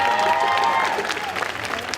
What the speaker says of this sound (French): Applaudissez-la un petit peu plus fort quand même